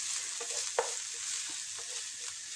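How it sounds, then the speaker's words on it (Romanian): Onion frying in oil, with a steady soft sizzle and a few faint stirring clicks and scrapes, one slightly sharper knock partway through. "ceapa este prăjită cu ulei"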